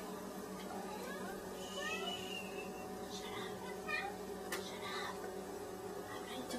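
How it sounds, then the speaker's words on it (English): A pet cat meows repeatedly in a backyard, several short near cries coming in an irregular run over a quiet steady background hum. "I'm trying to be very quiet, but Manfred keeps meowing."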